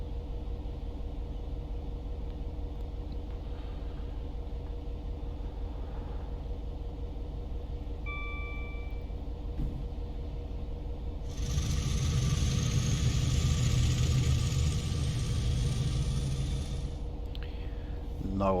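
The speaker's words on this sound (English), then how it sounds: "No idea what that engine sound was for." A Class 66 diesel locomotive in Train Simulator Classic rumbles at a steady, low drone, then a louder engine and mechanical burst swells in for several seconds near the end.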